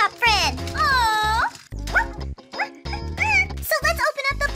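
A golden doodle puppy barks and yips in short bursts near the microphone, alternating with someone talking in a bright, playful voice.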